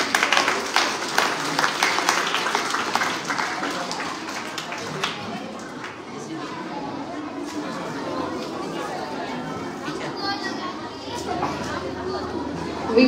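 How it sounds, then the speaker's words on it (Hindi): At a school award show, an audience claps for students called to the stage, with dense applause at first that fades into crowd chatter and talking. "जोरदार तालियां।"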